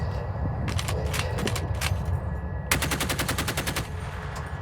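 Rapid bursts of automatic gunfire from Danish military weapons, loud and close, with scattered short volleys early on, then a long, evenly spaced string of shots ringing out over a rumbling background.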